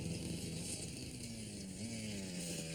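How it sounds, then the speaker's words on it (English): An experimental computer-controlled lawnmower runs steadily nearby, a loud, harsh motor drone with a wavering whine that rises and dips in pitch, with no talking over it. "What's with your lawnmower? Oh, it's a new experimental model. Computer controlled."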